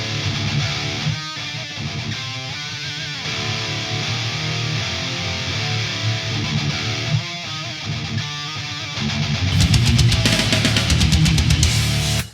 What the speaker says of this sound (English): If I play the same thing with the reverb,